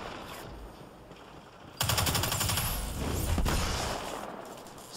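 Full-auto gunfire in the video game Destiny 2 breaks into a rapid, loud stream of shots after a quieter start, with a brief dip before the burst continues.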